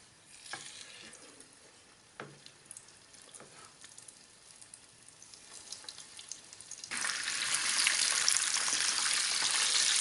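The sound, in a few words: peremyachi (Tatar meat pastries) frying in boiling oil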